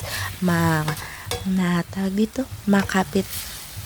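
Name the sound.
stirring beef in ketchup, oyster sauce and sugar sauce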